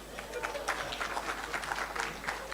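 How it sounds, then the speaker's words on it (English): A staff awards crowd gives a steady round of applause, dense clapping that holds at an even level for a few seconds with voices mixed in. "Everyone who does something up here deserves a round of applause."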